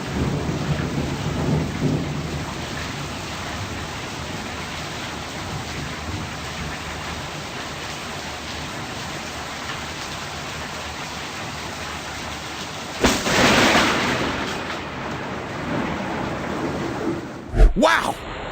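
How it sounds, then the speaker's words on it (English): A thunderstorm with steady rain, then a lightning strike lands with a loud, close crack and rumbling thunder near the end, followed by a sharp burst, suggesting the bolt hits a roof. "Wow! That lightning broke the roof into pieces!"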